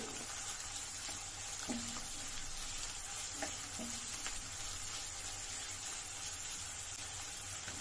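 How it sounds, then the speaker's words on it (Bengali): Chopped onions fry in hot oil in a pan, giving a steady soft sizzle with a few faint scrapes from stirring, heard close but quiet, with no talking. "পেঁয়াজটা এবার নাড়াচাড়া করে ভেজে নিচ্ছি"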